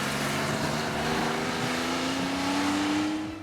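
The engine of a 1974 Porsche Carrera 3.0 RS race car roars steadily, its pitch climbing slowly as it revs up, loud and close before easing off at the end.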